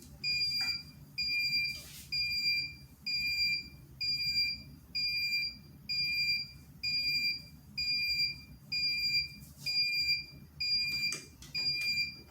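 Repeated electronic beeping from a heat press in a steady, regular rhythm, about a dozen evenly spaced high-pitched tones sounding close by, with faint clicks in between.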